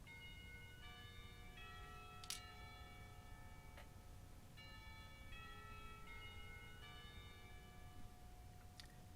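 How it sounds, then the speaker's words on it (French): Several bright school bell tones in a video game ring out in repeating chime patterns over a steady low hum, with a few sharp strikes between phrases. "Les cloches sonnent, signalant la fin du cours et l'heure du déjeuner."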